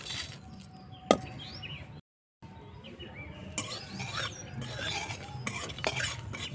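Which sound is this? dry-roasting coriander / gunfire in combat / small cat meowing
dry-roasting coriander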